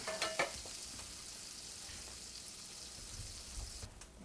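An egg frying in a pan for a sandwich: a brief clatter as it drops in, then a steady, close, bright sizzle with no voices.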